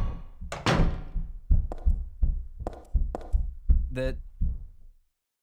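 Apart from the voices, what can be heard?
banging sound from above, from the video game Silent Hill 3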